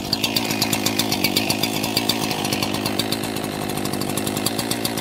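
An ECHO CS-4910 or CS-590 chainsaw engine runs loud and close with a steady, rapid two-stroke chatter that holds throughout, with no talk over it.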